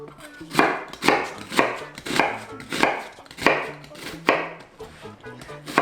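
A knife chops 70 g of onion on a board, about a dozen crisp, evenly paced strikes, each a sharp thud, close and clear against a quiet kitchen background.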